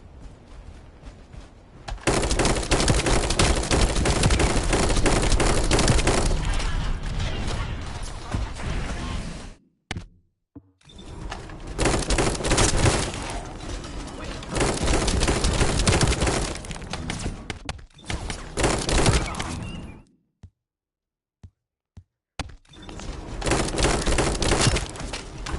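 Sustained bursts of gunfire from The First Descendant game roar loud and dense, broken by a few short silences, with no voices over them.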